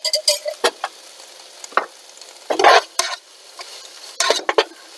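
Tomato frying in oil for moong sabzi, with bursts of sizzling and spatula stirring scraping the pan in short, uneven strokes, close and fairly loud against a quiet background.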